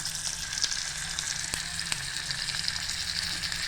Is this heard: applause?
no